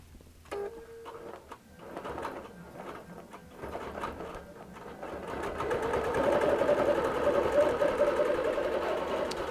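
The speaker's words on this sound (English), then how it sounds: "it's going to continue quilting" A QBOT V3 quilting robot drives a sewing machine through a tie-off stitch and then resumes quilting, starting with scattered clicks and short stitch bursts before settling into a steady, rapid mechanical hum that grows louder and continues to the end.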